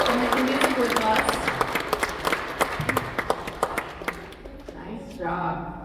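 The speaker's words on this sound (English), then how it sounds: "Let's give her a round of applause for 4 years of making music with us." Applause from an audience at a music school's anniversary celebration honoring a young violin player, with scattered individual claps over a steady murmur of voices that fades near the end.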